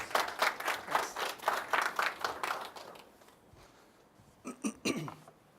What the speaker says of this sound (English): So a round of applause for the SiteCompli team.